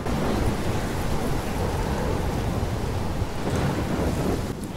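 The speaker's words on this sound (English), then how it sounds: "I've never seen a storm like this in one of my life." Heavy thunderstorm with steady pouring rain and deep rumbling thunder in the video game Life is Strange, a dense, continuous roar that stays loud throughout with no voices.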